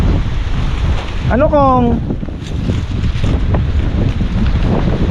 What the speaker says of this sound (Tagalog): Huling lakas lakas ng hangin ito sa kasapsapan ah.